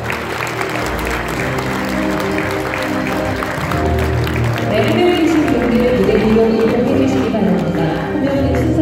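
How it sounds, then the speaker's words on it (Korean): An awards-ceremony audience in a hotel ballroom welcomes guests with sustained applause, dense and steady, with music rising beneath the clapping. "여러분 뜨거운 박수로 환영해 주시기 바랍니다."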